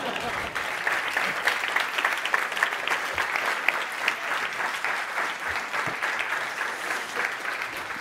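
An audience at a games user research conference applauds volunteers, with sustained, dense clapping from many hands that stays loud and even throughout.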